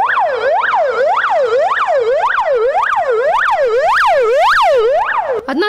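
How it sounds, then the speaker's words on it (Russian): An ambulance siren arriving at an emergency drill near a Sochi boiler plant wails loud and close in a fast, steady yelp pattern that repeats throughout. "Одна за другой к месту аварии прибывают бригады скорой помощи"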